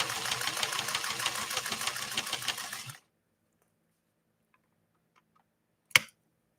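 A 1958 Singer 404 sewing machine stitching through two layers of fabric, a steady close whirring run for three seconds that stops, then silence and a single sharp click.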